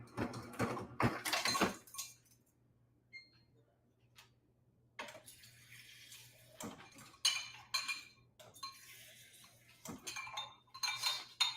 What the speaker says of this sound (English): I add an ice cube or 4.